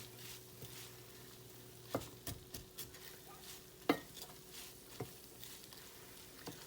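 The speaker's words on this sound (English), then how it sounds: "you just want to saute your onions and your peppers. Cook them down a little bit." Onions and peppers sautéing in a pan for sloppy joes, a soft low sizzle with scattered utensil taps and scrapes, faint and close, with no voices.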